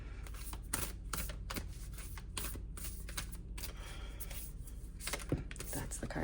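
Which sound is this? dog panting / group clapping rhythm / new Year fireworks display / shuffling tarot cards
shuffling tarot cards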